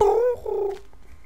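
A cat in Minecraft gives a single short, close meow that drops in pitch. A faint softer murmur trails after it.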